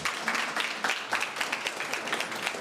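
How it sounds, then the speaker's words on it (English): Steady applause from an audience at a youth entrepreneurship skills programme launch, a continuous dense patter of many hands clapping at moderate volume throughout. "Another round of applause for him for keeping it at 5"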